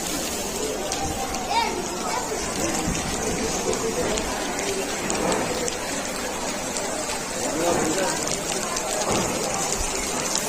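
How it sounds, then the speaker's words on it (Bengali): Heavy rain pours steadily over an open field at an outdoor Islamic waz mahfil gathering near a madrasa, a dense continuous hiss with people talking and moving about underneath. "অনেক জোরে বৃষ্টি নামছে"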